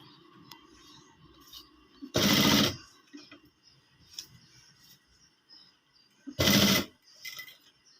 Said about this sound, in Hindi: तो इस तरह सिलाई पक्की कर देनी है, दोनों साइड से पक्की कर दें।